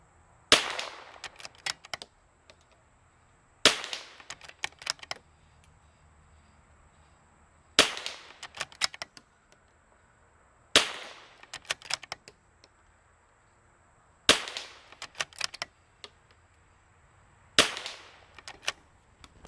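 Six sharp .22LR rifle shots from premium Vudoo and RimX bolt-action rifles, spaced a few seconds apart, each a crisp crack followed by brief clatter of bolt cycling, with no talking.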